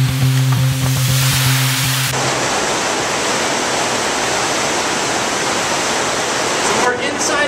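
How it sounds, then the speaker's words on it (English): Wastewater rushes into the headworks of a treatment plant in a loud, steady roar of turbulent water, preceded by a few seconds of droning machinery hum. "let's take a closer look at the water coming in from Englewood"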